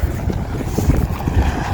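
Strong, cold wind on Ha Ling Peak in Alberta, Canada buffets the microphone in a constant low roar, gusting unevenly with no voices.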